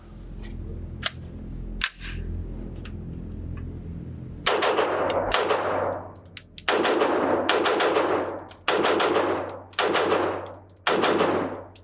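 A CMMG Banshee AR-9 rifle in 9mm fires quick strings of shots at several targets on a range, with loud sharp bursts after a few scattered single shots, each string ringing out with a short echo.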